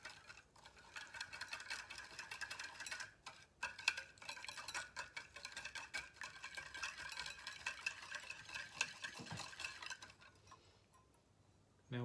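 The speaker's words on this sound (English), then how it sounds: "I'm going to give this a stir and incorporate all the ingredients." Brown sugar being stirred into a ginger garlic sauce, a faint run of light ticking and scraping from a utensil against the bowl that goes on for several seconds, quiet and close, then stops near the end.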